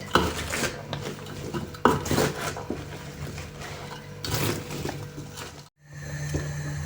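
Cucumber slices for pickles stirred in a pot, giving steady scraping, clinking and rustling with a few louder knocks and a brief break near the end.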